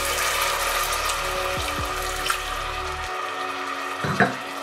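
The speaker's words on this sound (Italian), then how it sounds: "e andiamo a coprire con un pochettino d'acqua." Water poured from a tap or jug over a beef and porcini mushroom stew in a pan, a steady broadband rush that stops abruptly partway, followed by a brief faint splash.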